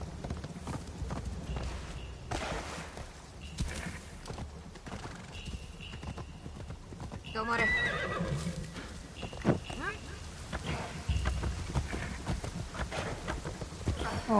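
A horse in the video game Assassin's Creed Shadows whinnies loudly midway while its hooves clip-clop and scuffle around it, all set against an ambient game background.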